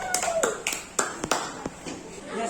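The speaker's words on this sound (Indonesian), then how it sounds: "Tepuk tangan untuk kelompok 3" Students in a classroom giving a round of applause for a group, a short scattered burst of claps near the microphone with a voice speaking over them.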